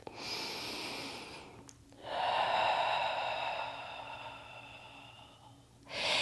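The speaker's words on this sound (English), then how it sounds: "One more deep breath." Slow, deep yoga breaths held in a crescent lunge, two long airy inhale-exhale sweeps close to the microphone, with no talking over them.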